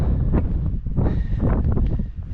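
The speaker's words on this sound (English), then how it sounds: "Wind just sucks the life out of me, especially when it's that strong." Strong wind roaring across the Wind River mountains near Dickinson Park, a steady, close buffeting rush with gusty surges that batters the microphone.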